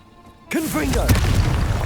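Confringo spell blast in Hogwarts Legacy, a sudden loud burst that swells into a sustained roaring rush with swooping tones, close and forceful.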